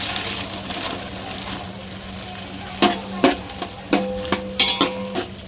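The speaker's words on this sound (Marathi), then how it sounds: "आपण याच्यात कांदे टाकूया." Onions frying in hot oil and butter for pav bhaji give a steady close sizzle, joined later by several sharp scraping clinks of a spoon stirring against the pan.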